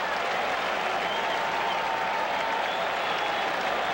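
Baseball crowd of about 33,000 at Fenway Park during the 1986 World Series, a dense steady roar of cheering and clapping that fills the whole stretch without letup.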